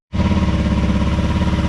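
A Honda CRF motorcycle with a new inlet cam, its ABS removed and new hoses fitted, bursts into life and settles into a loud, close, steady idle with a fast even pulse.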